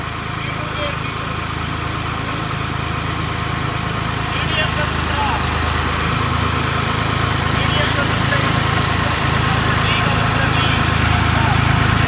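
A John Deere 5310 tractor engine runs steadily, a loud, continuous low diesel drone with a constant vibrating hum that holds unchanged throughout.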